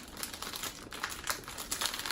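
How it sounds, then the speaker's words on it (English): Plastic packaging from a LEGO Disney Series 2 minifigure pack crinkles and crackles continuously as it is handled close up, with dense, irregular rustling bursts and no speech. "There's another plastic bag in here as well"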